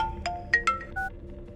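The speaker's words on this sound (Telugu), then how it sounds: "ఇది ఫోన్ చేస్తున్నాయేంటి?" A phone ringtone sounds during a tense climax scene of a Telugu movie, a short electronic melody of bright pitched tones rising and falling over a low background hum, loud and close.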